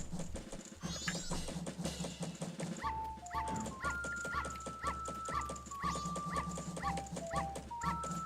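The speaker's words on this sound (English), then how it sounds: "The dog barks in time to music." In the video game Zelda: Majora's Mask, a dog yips and barks rhythmically along with a looping in-game melody, its short barks falling steadily in time with the tune.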